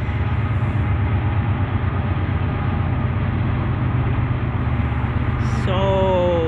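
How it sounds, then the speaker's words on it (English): A train passes close by, a loud, steady rumble that carries unbroken to the end, with a brief tonal rise near the close. "Sorry about the train."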